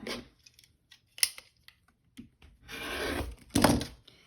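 A rotary cutter slices through quilting fabric guided along a clear quilting ruler, giving short scraping strokes followed by a longer, louder rolling cut, close and with no talking.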